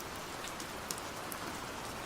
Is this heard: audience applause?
no